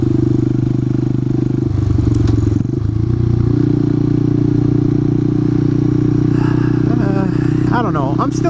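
A motorcycle ridden on the road, its engine a steady loud drone throughout with wind rush, a brief clatter near the two-second mark and faint higher tones late in the ride.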